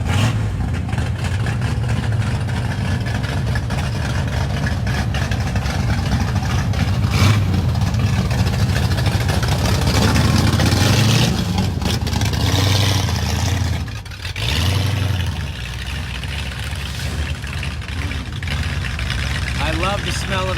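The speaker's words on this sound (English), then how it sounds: "we're gonna listen and/or watch and experience this Ford Fairlane" A vintage Ford Fairlane at an outdoor cars and coffee meet rumbles loudly as it pulls away, its deep, steady engine note dominating the scene, with people talking nearby over it.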